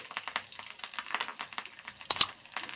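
Mustard-type tempering seeds, two dried red chillies and curry leaves crackle and spit in hot oil in a pan for an amaranth leaf curry, with irregular close pops and a couple of sharper bursts.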